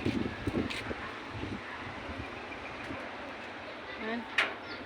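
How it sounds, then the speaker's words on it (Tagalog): Outdoor breeze blowing steadily as a soft broadband hiss, with a few faint bird chirps and light gusts near the start and end. "Presko guys ang hangin."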